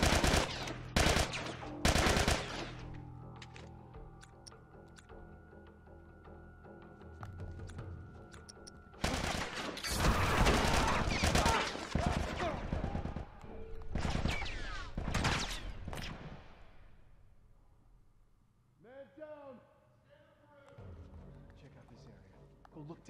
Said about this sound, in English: What are you shooting at, brother?